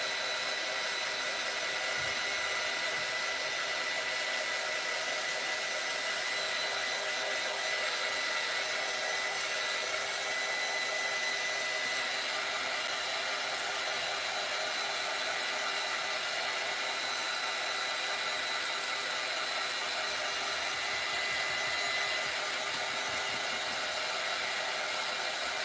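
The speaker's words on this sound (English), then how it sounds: "I like to dry my paint right beforehand" A hair dryer blows steadily, drying paint on a tumbler cup, a constant loud whooshing hum that runs unbroken for the whole stretch with no voices.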